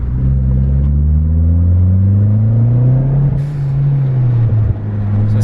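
A Mitsubishi Evo Ralliart with a GFB blow-off valve runs at full throttle, a loud, close engine note rising steadily in pitch, then dropping off as the throttle is released, with a brief airy hiss near the end.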